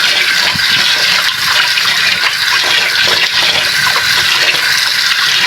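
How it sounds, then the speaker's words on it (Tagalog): Rice washing water poured out in a heavy continuous gush, loud and close, splashing steadily for several seconds with no voices. "Tapon natin yung unang tubig, ganun din"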